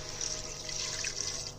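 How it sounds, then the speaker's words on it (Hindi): Water pours steadily into a pot of okra and meat curry, a continuous splashing rush that is close and fairly loud, with no talking. "अब इसमें पानी डालूंगी"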